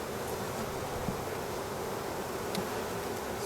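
Honey bees swarm and buzz in an open hive, a steady dense hum of many wings with no talk, holding close and even, with an occasional single bee passing nearer.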